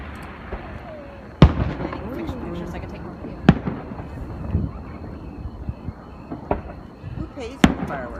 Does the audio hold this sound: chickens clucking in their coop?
no